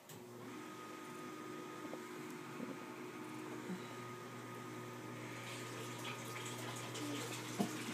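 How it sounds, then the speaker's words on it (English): A basement sump pump runs with a steady low motor hum and a continuous wash of moving water, a constant mechanical drone with a few faint clicks and knocks and no talking. "That sump pump."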